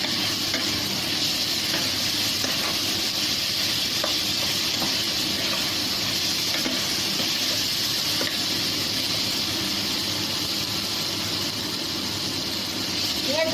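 Drumstick (moringa) leaves sizzle and hiss continuously in a hot pan, a dense, loud frying noise with stirring scrapes and a low engine-like hum underneath.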